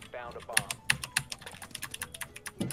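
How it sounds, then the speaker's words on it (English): Computer keyboard typed loudly during a Rainbow Six Siege match, a rapid run of sharp, close key clicks in an uneven rhythm, with brief voices in the background. "stop clicking your keys so loud"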